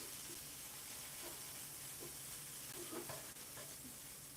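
Potatoes and sausage fry on an electric skillet in a hotel room, giving a steady close sizzle with a broad hiss and occasional soft scraping clicks from stirring, with no talking.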